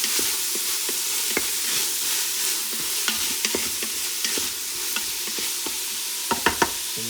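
Onions frying in an Instant Pot while being stirred, a soft constant sizzle broken by rhythmic utensil taps and scrapes against the pot, close up and without voices.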